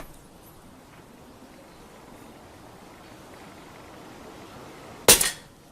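A single sharp, close report from an Air Arms S200 air rifle fitted with a Lancet Mk9 regulator, fired once after a long, quiet stretch of faint room hiss.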